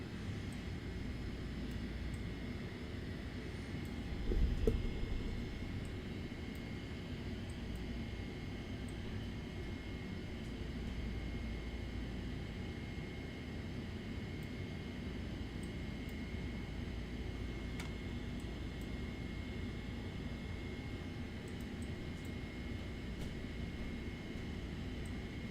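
A Boeing 787 airliner lands in a flight simulator game. A steady, even roar of engine and wind noise runs throughout, with one brief bump near the start.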